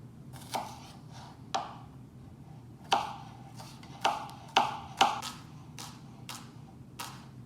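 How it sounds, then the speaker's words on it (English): A knife chops garlic and shallot on a cutting board, about ten sharp, separate knocks with uneven gaps between them, close and clear over quiet room hum. "I'm gonna cut up some garlic and shallot"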